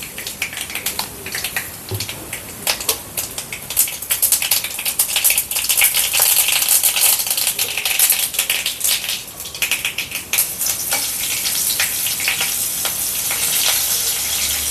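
Mustard seeds and onions fry in hot oil for Onam-style ulli theeyal, giving a steady close crackle with a dense scatter of sharp pops and spits, no voices.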